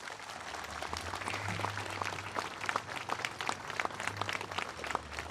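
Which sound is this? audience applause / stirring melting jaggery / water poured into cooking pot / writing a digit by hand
audience applause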